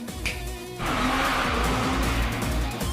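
A Toyota Trueno drifts at speed, its engine revving and tires squealing loudly in a sustained smear of noise that swells after a short engine lead-in, with no talking.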